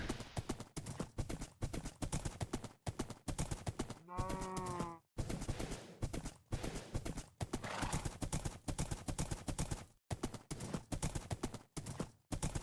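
Horse in the Minecraft video game, with steady clip-clop hooves throughout and a loud whinny partway through, close and clear, with no talking.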